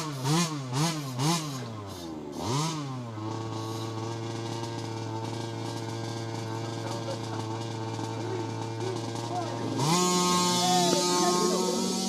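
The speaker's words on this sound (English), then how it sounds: "RC drag racing." Small RC cars at a dirt track drag strip whine and rev with high, rising-and-falling motor pitches, then settle into a steady buzzing drone, with a sharper higher-pitched burst near the end.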